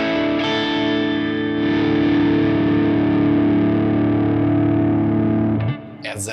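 An electric guitar with mini humbucker pickups runs through a Quad Cortex at 0 dB input gain, ringing out one loud, heavily distorted sustained chord for about five seconds before it is cut off and a faint scrape follows.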